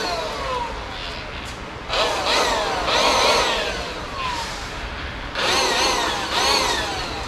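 An air inflator from a home store blows compressed air to clear rust out of the bolt holes in a Jeep CJ7 windshield frame. It comes as several loud, hissing bursts of a few seconds each over steady background noise.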